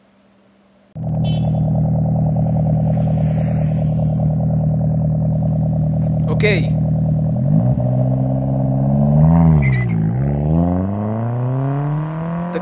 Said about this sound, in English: I'll show you how the exhaust sounds on our roads